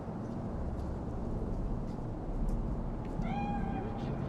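A cat in the Cyberpunk 2077 video game lets out a single short meow near the end, heard over a low, steady rumble of background ambience.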